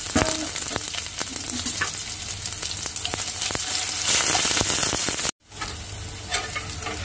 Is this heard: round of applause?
no